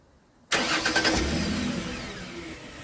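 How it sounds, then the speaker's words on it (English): After a moment of quiet, a truck engine cranks and catches on a remote start, roaring briefly before settling into a steady idle. "Alexa, start truck."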